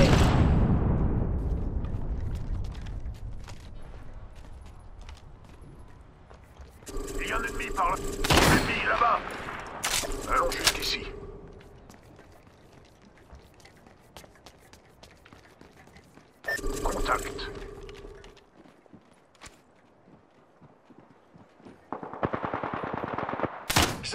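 Gunfire rings out in Apex Legends, a loud opening blast fading out, then separate bursts of automatic fire with sharp impacts in between, short stretches of quieter ambience and a final rattle of shots near the end.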